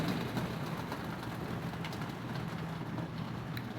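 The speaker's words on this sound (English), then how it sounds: "I know y'all hear the rain." Early-morning rain falls steadily outdoors, a soft continuous hiss with a low rumble underneath, even and fairly faint throughout.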